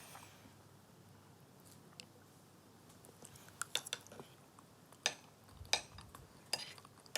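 Apple tart being eaten with cutlery at a table, with soft scattered clinks and taps of forks against plates and quiet chewing over a low room hum, growing busier toward the end.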